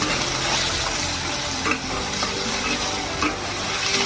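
Onion and green chillies frying in hot oil in a kadhai, a steady dense sizzle with occasional stirring scrapes, close and alone without talk.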